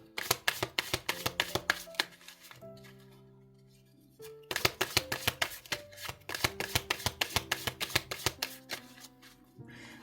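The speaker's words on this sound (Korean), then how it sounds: "타로 카드 2장 볼게요" Tarot cards are shuffled in repeated rhythmic riffling bursts of crisp snaps, pausing briefly in the middle before shuffling again, close and clear against a soft sustained musical background.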